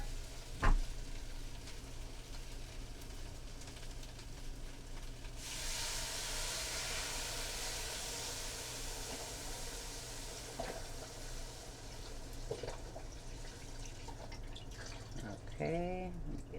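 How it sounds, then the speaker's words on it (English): Six cups of beef broth are poured into a stew pot for old-fashioned beef stew, making a steady, soft splashing rush for several seconds amid quiet kitchen sizzle and clinks. Talk is faint. "we're going to add our beef broth in here, 6 cups."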